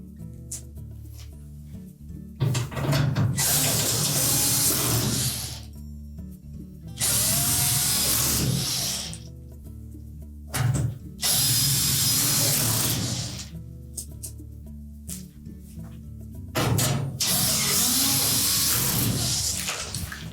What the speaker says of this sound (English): And then we'll secure it with the screws.